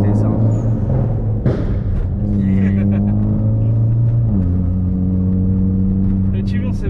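Mitsubishi Lancer Evolution X accelerating in São Paulo, a steady engine drone that climbs and shifts in pitch over several seconds, close and loud with voices talking over it.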